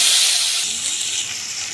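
Mashed hog plums hit hot oil already tempered with dried chillies, bay leaf and five-spice, giving a loud close hiss that settles into a softer steady sizzle.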